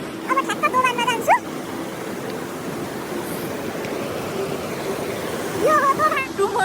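Cold mountain river water rushes in a constant, steady wash at a confluence, and a voice talks briefly over it at the start and again near the end.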